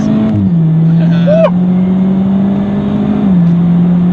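A Jaguar XE's engine pulls hard under full throttle, a steady close drone that shifts pitch once early and again near the end as it changes gear, with a brief whine in the middle.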